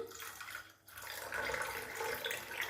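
Water is poured into a glass for fennel sharbat, a quiet trickle that stops briefly, then resumes in a steadier, louder stream.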